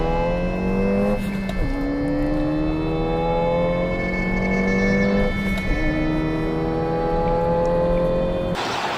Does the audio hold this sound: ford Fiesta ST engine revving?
yes